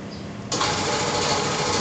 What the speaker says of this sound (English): forgive the noise of the compressor